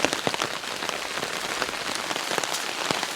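Freezing rain during an ice storm patters steadily onto a forest floor and branches, a dense, continuous hiss of close, crackling drops with no voices.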